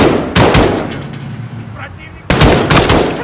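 Two loud bursts of rapid automatic gunfire in Call of Duty: Modern Warfare, close and dense, separated by a quieter stretch of lingering echo and ambient battle noise.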